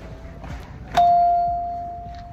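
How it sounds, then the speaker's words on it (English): A single loud electronic chime sounds inside a store, striking sharply and holding a steady tone that slowly fades over about a second and a half above a quiet background hum. "Ooh, that bell is loud."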